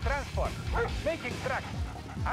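A dog in the Command & Conquer: Red Alert 2 video game gives a run of short, quick barks and yips, mixed in with speech and game sounds.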